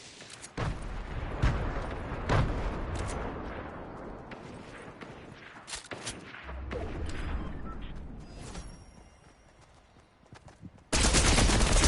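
Gunfire in the Fortnite video game, scattered sharp shots and short bursts at a moderate distance with quieter stretches between them, ending in a loud burst of noise.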